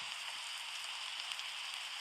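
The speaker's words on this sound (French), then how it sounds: "Oh non, il commence à pleuvoir." Steady rain falling in a forest survival video game, a continuous soft hiss of drops with no other sounds or voices over it.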